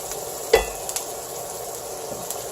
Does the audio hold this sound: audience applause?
no